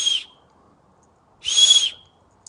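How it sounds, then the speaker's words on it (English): Two sharp, shrill blasts from a small survival kit whistle, a short toot followed after a pause by a longer, louder blast, close and clean against near silence. "Our whistle."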